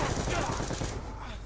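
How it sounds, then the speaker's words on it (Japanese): Rapid enemy gunfire in Black Ops 2, a dense burst of automatic shots that thins out toward the end, loud and close in the game mix. "敵は撃った"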